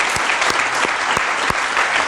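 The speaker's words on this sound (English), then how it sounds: "So I can give a quick round of applause for the band." An audience applauds a school band at an art prize-giving, with close, even clapping from many hands and a few sharper, heavier claps standing out over the short burst.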